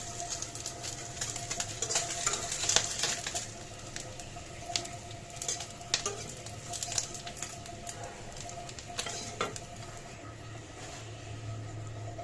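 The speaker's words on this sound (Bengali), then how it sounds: "ভাজা হয়ে গেছে মাছগুলো" Fish frying in a pan at home, a quiet steady sizzle with soft crackles and pops running throughout, no voices over it.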